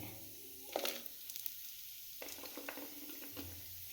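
Spices frying in oil for sambar give a soft, steady sizzle with brief stirring scrapes at the start and again near the end. The sizzle stays low and close, and no one speaks over it.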